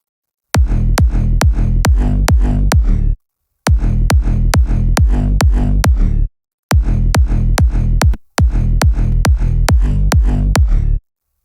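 An edited dance-track drop built from rapid pitched-up kick drums, heard as four loud bursts of fast repeated punchy hits separated by short silent gaps, with no voices.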